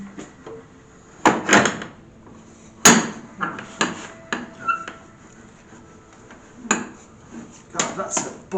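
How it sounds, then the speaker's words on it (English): A heavy bolted door to the dissection room of the old Derby Gaol is worked open with loud, sharp clanks and knocks, followed by scattered, irregular thuds and rattles at close range. "So the dissection room door."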